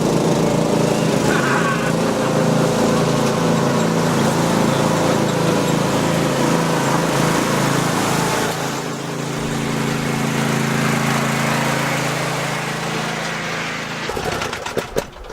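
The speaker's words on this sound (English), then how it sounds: "Show us how to mow." Ride-on lawn mowers racing in a straight line, a loud, steady engine drone close by that shifts in pitch midway as the machines pass, with a brief rattle near the end.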